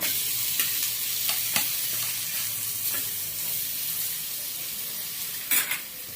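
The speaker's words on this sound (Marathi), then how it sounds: "बारीक गॅसवर आपण ब्रेड टोस्ट हे फ्राय करून घेतलेले आहेत" Besan bread toast frying in oil in a pan on low heat, giving a steady bright sizzle throughout with a couple of soft utensil clinks near the end.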